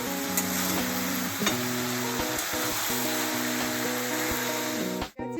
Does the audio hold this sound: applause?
no